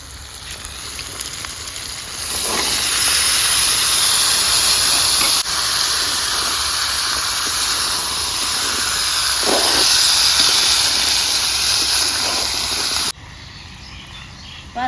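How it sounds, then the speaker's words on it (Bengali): Boiled chickpeas and potato fry with turmeric and spices in a pan for a Bengali ghugni, giving a loud continuous hiss and sizzle with occasional stirring scrapes, close up, ending in a sudden drop to a quieter sizzle. "মিনিটের মতো মশলা দিয়ে ভাজে নিলাম"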